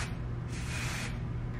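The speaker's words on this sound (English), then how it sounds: "You can also spray it on the ends of your hair too, to add a little volume and texture." A hair product sprays onto the ends of the hair for volume and texture, one short hiss of about half a second over a steady low background hum, with no voices.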